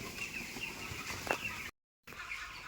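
A poultry flock of about fifteen hundred birds, around fifteen days old, clucks and chirps as one dense, steady chatter throughout, cut by a brief silent gap.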